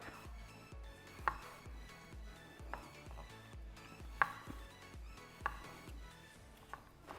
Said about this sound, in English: we're gonna chop up some tomatoes